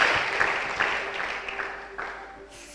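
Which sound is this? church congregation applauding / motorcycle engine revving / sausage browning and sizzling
church congregation applauding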